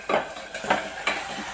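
Meat fries in a pan for a potato and meat curry, stirred with a utensil: three distinct scraping strokes sound over a soft, steady sizzle, with no talking.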